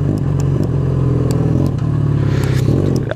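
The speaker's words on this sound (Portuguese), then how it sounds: "Tá vendo que a moto tá morrendo?" A Yamaha XJ6 motorcycle engine idles roughly and sputters as it stalls, a loud, close, uneven low rumble with faltering beats.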